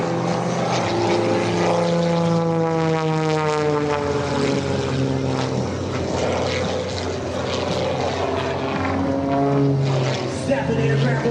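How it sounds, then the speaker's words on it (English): An aerobatic propeller airplane flown by Skip Stewart at the 2025 Wings Over South Texas Air Show drones loudly and continuously, its engine pitch rising and falling through maneuvers, while an announcer talks over it. "Snapping the aircraft on the vertical upline and getting the power and the performance as he holds the aircraft on the front."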